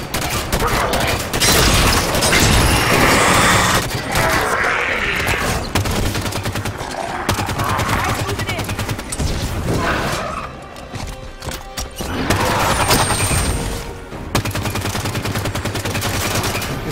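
Gunfire in Halo 5: Guardians during a mission evacuation firefight, with continuous loud bursts of shots layered over dense battle noise and game effects, barely pausing across the whole stretch.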